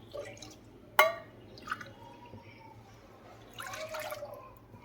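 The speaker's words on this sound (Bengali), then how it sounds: "এবার আমি চুলোর ওভেনটা জ্বেলে দিয়ে 2 কাপ লিকুইড দুধ দিলাম।" Liquid milk is poured into a pot on a lit stove, heard as a few faint splashes and a short watery trickle near the end, with a sharp clink and a low steady hum underneath.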